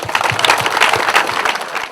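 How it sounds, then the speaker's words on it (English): A crowd at a presentation applauds with steady, dense clapping that carries on through the short clip, fairly loud and close. "So a round of applause for Melanie and the boys."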